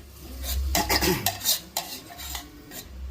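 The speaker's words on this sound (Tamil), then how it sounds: "இப்போ பூரணத்துக்கு வதக்க போகிறோம்மா தேங்காய் வதக்கணும்" Grated coconut filling for sesame-coconut kozhukkattai being stirred in a pan, quick scraping and clinking strokes of a utensil against metal in an uneven rhythm, close and dry, with no voices.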